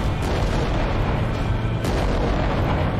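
Rocket fire in the Adeptus Titanicus: Dominus video game produces a continuous dense rumble of booming blasts and bursts, loud and sustained throughout, with no talking.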